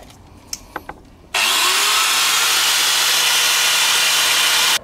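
Power sanding and polishing of a car headlight, with a few light taps first, then a loud, steady, high whirring of the tool held continuously close by for several seconds before it stops.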